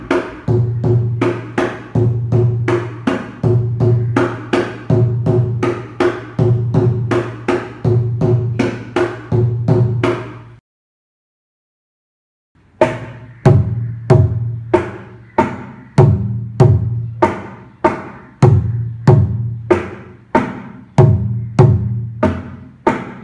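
Mridangam playing the takadinna lesson pattern, a steady run of crisp, resonant strokes in repeating four-beat groups, loud and close, with a brief silence midway before the pattern resumes.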